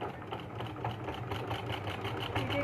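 Sewing machine stitching lace onto folded fabric for a baby yoke frock, a steady mechanical whirring hum running continuously and fairly loud throughout, with no talking.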